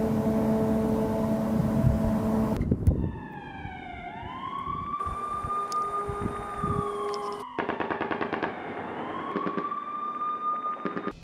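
An air raid siren wails in Kyiv during a Russian drone attack, rising and falling tones sweeping over distant bursts of gunfire and a rough rumbling background.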